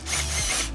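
A power drill cranks a brake caliper piston back during a Hyundai brake change, a short loud buzzing whir with a ratcheting mechanical edge, close up and alone.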